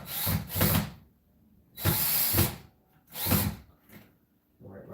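Three bursts of a power drill whirring, each lasting under a second, separated by short pauses, close and fairly loud.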